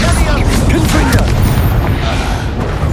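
Booming blasts and rumbling bursts from the Confringo explosive spell in the video game Hogwarts Legacy, loud and continuous throughout with crackling debris.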